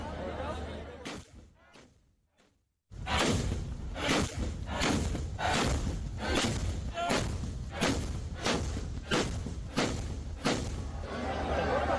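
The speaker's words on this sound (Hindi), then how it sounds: "प्रशासन की तरफ से 21 तोपों की सलामी दी गई" After a moment of quiet, loud cannon bangs go off one after another in a steady, rapid series, each blast sharp and booming, part of a 21-gun salute for Janmashtami.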